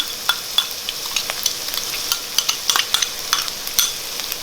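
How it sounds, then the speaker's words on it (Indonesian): Garlic and onion sautéed in hot oil in a pan, a steady close sizzle broken by repeated sharp scrapes and taps of a spatula stirring, with no talking. "Kita tumis bawang putih dan bawang bombay."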